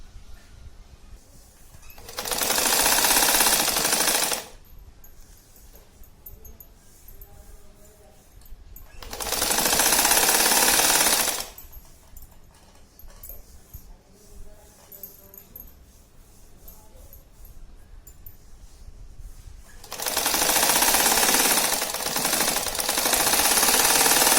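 Sewing machine stitching a seam on a zippered shopping bag, three loud bursts of rapid stitching, each a few seconds long and separated by quieter pauses, close by.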